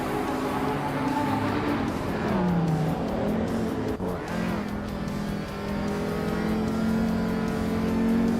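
Race car engines in a racing game, led by a classic 1983 Porsche 911-930 Turbo, revving and rising in pitch as cars accelerate and shift, with overlapping engine tones and brief tire squeal, loud and close throughout.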